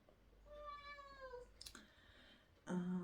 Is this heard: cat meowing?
yes